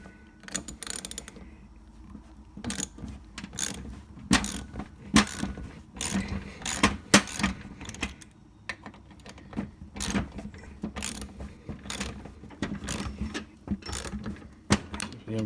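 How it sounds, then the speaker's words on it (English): An Allen ratchet works Loctited bolts out of a STOCKade ST400 fence stapler, producing repeated close bursts of sharp clicking strokes with brief gaps over about fifteen seconds. "It can take a bit to get out, so you're going to need a good Allen ratchet."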